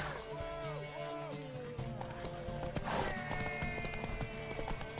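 Horse hooves clopping at speed in The Witcher, steady galloping rhythm beneath a busy game soundscape of music tones and effects, moderately faint.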